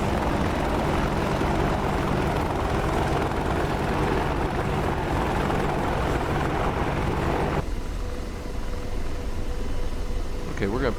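An Apache helicopter in the DCS flight simulator gives a loud, continuous rotor and engine drone. It carries on steadily, then drops and thins near the end.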